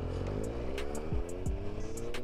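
Yamaha Tracer 9 GT motorcycle engine runs with a steady low hum, its pitch sweeping upward a couple of times as it revs, heard fairly faint and with no talking.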